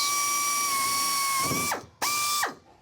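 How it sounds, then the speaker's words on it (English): A power drill whines steadily as it bores holes in a 1,000 HP turbocharged Fox-body Mustang's dashboard near the windshield, spins down, then runs again in a short second burst before winding down. "So first, I'll drill some holes to bolt up the brackets."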